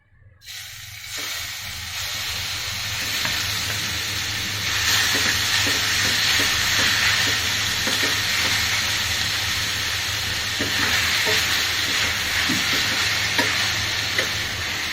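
Grated pumpkin fries in ghee with a steady, bright sizzle and hiss, joined by occasional stirring scrapes, loud and close throughout with no talking.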